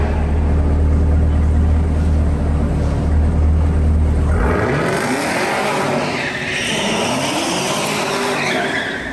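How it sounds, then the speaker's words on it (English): A loud car engine roars at high revs, shifting into a screeching whine of spinning tires, continuous and close. "just hammer the throttle all the way down"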